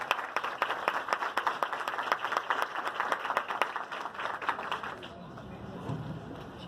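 Audience applause at a women's entrepreneurship seminar rises as a dense patter of clapping hands over about five seconds, then thins out and stops, with a voice speaking beneath.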